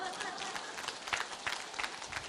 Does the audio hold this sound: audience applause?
yes